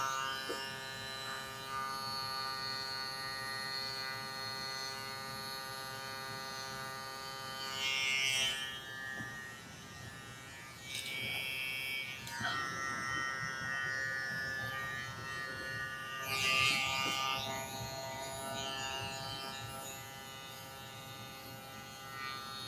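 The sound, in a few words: electric hair clippers trimming afro hair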